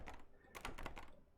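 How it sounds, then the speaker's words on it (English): A few quick taps on a computer keyboard's number keys, clicking in a short irregular burst, close and faint in a quiet room while exploring a locked puzzle in a horror game. "I did hit it on the keyboard in case something magical would happen."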